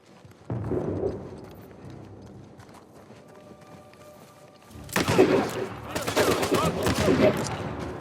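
Pistol gunfire in the action game Uncharted breaks out as a burst of shots, followed later by a denser, louder stretch of rapid firing with clattering impacts.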